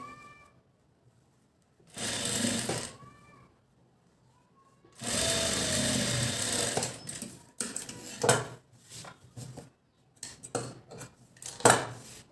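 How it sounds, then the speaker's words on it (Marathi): Sewing machine stitching along the edge of a blouse in loud whirring bursts of about one and three seconds, followed by shorter stop-start runs and clicks, close up with no talk. "एकदम कडे शिलाई"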